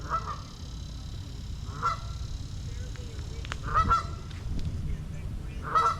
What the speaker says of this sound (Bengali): হাঁসগুলোর খুব কাছে আমি চলে আসছি এখানে আপনাদেরকে আমি অল্প কিছু হাঁস দেখাচ্ছি